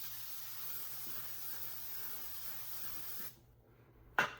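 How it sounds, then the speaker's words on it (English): L'Oreal Infallible setting spray hisses from its nozzle in one continuous, fairly faint mist lasting about three seconds, then cuts off into near silence before a brief louder click or tap. "you have to wipe the spray nozzle off or it won't spray"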